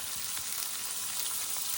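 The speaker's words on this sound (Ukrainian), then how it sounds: "так і грибочки тут покладемо, хай смажиться" Steady crackling sizzle of porcini and chanterelle mushrooms frying in a pan over a campfire in a forest, continuous and close, with no voices over it.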